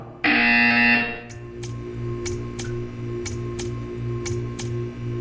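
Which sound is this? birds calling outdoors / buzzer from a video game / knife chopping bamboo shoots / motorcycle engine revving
buzzer from a video game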